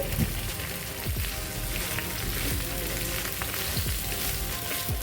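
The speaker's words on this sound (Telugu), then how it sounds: "చిక్కుడుకాయ ముక్కల్ని ఇలాగే ఫ్రై చేసుకోవచ్చండి" Chopped broad beans and potatoes fry in a pan for a potato curry, giving a steady, dense sizzle with a few soft stirring knocks throughout.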